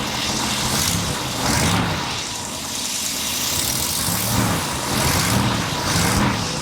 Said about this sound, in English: she just started right up, and look how smooth it's running